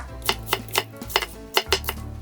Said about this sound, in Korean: 양파 반 개도 썰어줍니다.